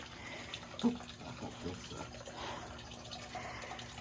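Water from a hose runs steadily into a farm pond, a continuous soft splashing trickle with no voices, close and fairly quiet.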